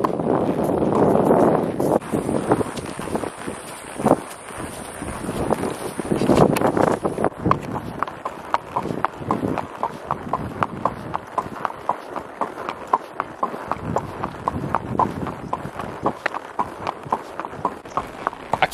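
Horse hooves clip-clopping at a steady walking rhythm on the ride out to a ranch's front gate, close and continuous for the whole stretch, with wind buffeting the microphone, strongest in the opening seconds.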